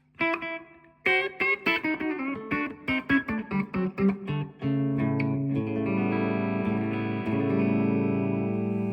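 Electric guitar played with a wet reverb: a run of plucked notes and chords, then sustained ringing chords that swell and linger.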